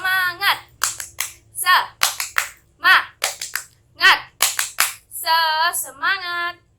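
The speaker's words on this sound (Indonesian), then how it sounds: "kita tepuk semangat dulu ya, supaya lebih semangat dalam mengikuti pembelajaran hari ini" A primary school class performs a rhythmic spirit clap, sharp synchronized hand claps in a patterned sequence alternating with children chanting and shouting in unison.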